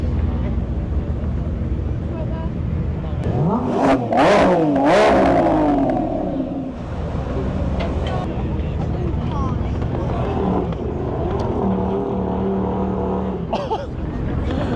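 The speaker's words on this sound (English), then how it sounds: "Lambo doing launch control in the middle of the street" A Lamborghini Revuelto supercar launches in the street, engine rising in sharp revving surges that peak loud and close, then settling into a lower rumble with speech heard around it.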